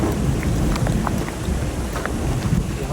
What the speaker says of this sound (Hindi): अभी तक बारिश हो गया है